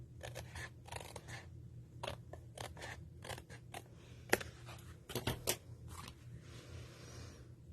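Scissors trimming a paper card, a steady series of crisp snips spaced evenly, close and clear with no voices.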